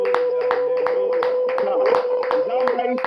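Congregation clapping in a church service, a steady run of hand claps repeating roughly every half second, mixed with a sustained tone and voices underneath.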